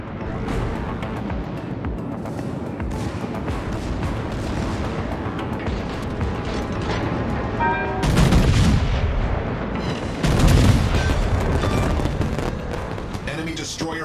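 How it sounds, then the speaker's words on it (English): Heavy battleship main guns firing from a Tier 9 USS Iowa in World of Warships, a steady roar of gunfire and booms with two louder broadside salvos near the end, with game narration over the top. "Concentrate fire on the enemy warship."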